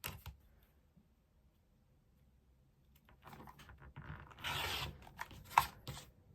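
Scissors or a cutter slice across quilting fabric for a four-patch block, quiet at first, then a rising run of close rasping cuts and rustles.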